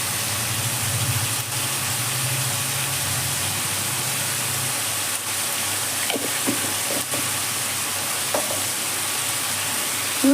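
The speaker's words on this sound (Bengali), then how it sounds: "চিকেনটা দিয়ে মশলার সঙ্গে একটু নেড়ে নিচ্ছি।" Chicken frying with spices in a pan as a Bengali-style chicken macaroni is cooked, giving a steady low sizzle with a few faint scrapes of stirring, moderately close and without talk.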